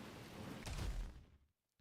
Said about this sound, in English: Pouring rain, monsoons everywhere.